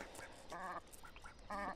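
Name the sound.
duck quacking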